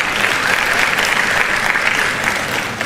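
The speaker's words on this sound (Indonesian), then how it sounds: "Tepuk tangan buat Pak Alu Dohong." Audience at a formal speech event applauding a deputy minister, a loud, dense, continuous round of clapping from a large crowd.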